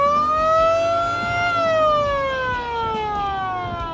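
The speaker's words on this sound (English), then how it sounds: "before you hit those sirens, let me know" Police siren on a motorcycle sidecar, loud and close, sweeping slowly up and down in a steady wail with engine rumble beneath.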